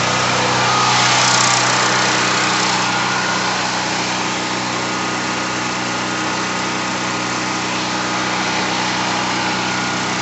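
A portable generator engine runs steadily at a constant idle, a loud continuous mechanical hum and buzz with no talk.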